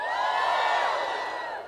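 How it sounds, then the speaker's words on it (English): An outdoor crowd at a march and people's assembly cheers and whoops loudly and continuously, many overlapping high voices held for a sustained swell before easing off slightly. "If you could all clap like this, or yell, can I hear a woo?"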